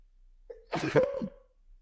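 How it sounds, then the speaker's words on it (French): A single short sneeze, a sharp voiced burst with a quick breathy release, close and fairly quiet in an otherwise still room. "je vais éternuer."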